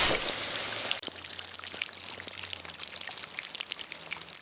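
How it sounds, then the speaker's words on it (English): A video game pouring effect built from a recorded rain sound: a loud wash of dense hiss for the first second, then a steady patter of scattered drops and crackles that continues to the end. "it's literally just a rain sound."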